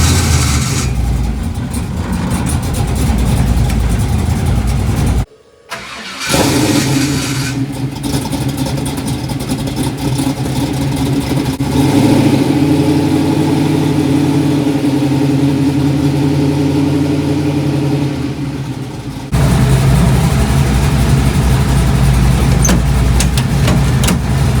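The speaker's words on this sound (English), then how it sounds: "the whirring sound when I start this thing, it's almost like the starter kind of hangs" A Pontiac Firebird engine with a starter that hangs and whirs runs loudly and steadily at idle, briefly cutting out near the start before restarting and droning on close by.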